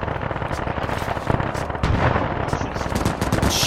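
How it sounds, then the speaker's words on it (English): Sustained machine gun bursts in a World War II battle game, loud rapid automatic fire with overlapping shots and distant gunfire rolling continuously. "that guy's fucking going crazy with his MG"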